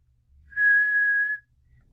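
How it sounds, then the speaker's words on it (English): A single clear whistled note, given as a demonstration during clarinet tone tips, sounds close and steady for just under a second against a quiet background. "if you can whistle"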